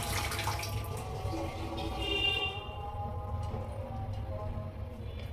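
Hot cooked chow mein noodles drained through a strainer, a steady rush of pouring water that splashes busily at first and then settles into a softer continuous trickle.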